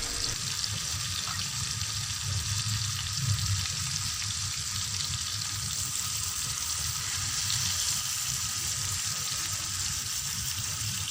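Fish frying on a tawa, a steady hissing sizzle with soft low bubbling and crackle underneath, continuous and fairly close without speech.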